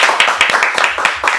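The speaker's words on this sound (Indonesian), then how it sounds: "Tepuk tangan." A studio audience claps for a guest, a futsal coach, at an Indonesian talk show: several quick, loud bursts of hand claps in an uneven rhythm, close to the microphone.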